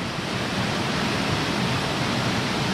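Loud, unbroken roar of cascading water from a chain of waterfalls with blue and green pools near an abandoned mine, a thick constant wash of sound close by.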